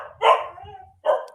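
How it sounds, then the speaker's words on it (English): Dogs bark indoors, two loud, close barks separated by a short pause, with a faint whimper trailing after the first, and no talk. "my dogs are freaking out"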